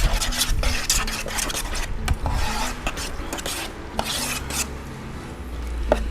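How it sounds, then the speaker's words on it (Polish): Chicken marinade for Greek-style skewers being stirred in a bowl, a steady close rubbing and scraping with irregular clicks and knocks throughout, no voices. "Teraz to wszystko mieszam."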